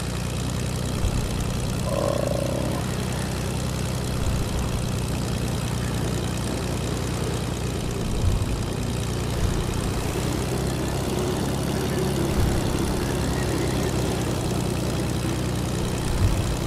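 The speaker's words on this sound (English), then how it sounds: "I'll get in a plane." A propeller airplane in Fortnite drones with a steady, continuous engine hum from start to finish, loud and close, punctuated by a few light thuds.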